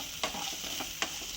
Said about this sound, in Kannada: ಹಾಕ್ಕೊಂಡು ಕ್ಲೀನಾಗಿ ಮಿಕ್ಸ್ ಮಾಡ್ಕೊಳ್ಳೋದು